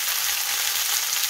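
Rabbit pieces sizzle and fry as they go into a casserole pot for rabbit in mustard sauce, a steady close hiss with no talk.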